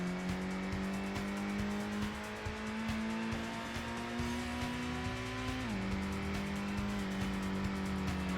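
A fast race car in the Gran Turismo video game holds a steady high engine whine through a corner, with a brief pitch drop near the end as it shifts. The sound is continuous and clear, with no talk.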